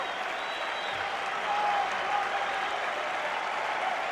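A small crowd at a 1999 Padres at Expos baseball game gives a standing ovation in the stadium, with steady, dense clapping throughout and faint crowd noise beneath it.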